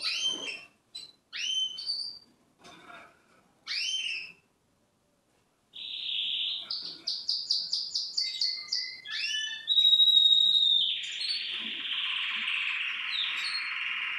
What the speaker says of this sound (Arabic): طبعا كل ما كان في تغريد اكثر فهذا محفز لحتى الطيره تبدي عشها اسرع